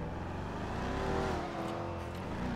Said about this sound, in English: You want to hear the car